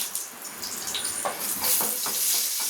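Mustard seeds splutter in hot oil in a pan, a close, bright hiss with quick crackling pops building steadily throughout, and no talking.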